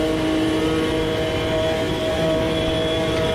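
A GT1 race car engine howls at sustained high revs down the straight at the Nordschleife in Automobilista 2, a loud, close, continuous drone with a steady pitch and no voices.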